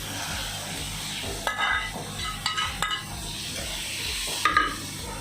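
Chicken pieces go into a pan of simmering white sauce, with soft stirring and a low sizzle under a few sharp clinks of a spoon against the pan.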